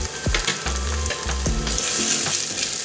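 Ginger garlic paste hits browned onions in hot oil for a paneer dish, giving a loud continuous sizzle broken by several sharp knocks and scrapes of a utensil against the pan.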